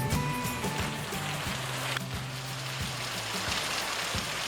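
Steady rain falls outside with a dense, even hiss and scattered drips on surfaces, moderately faint, over a low background hum and with no one talking.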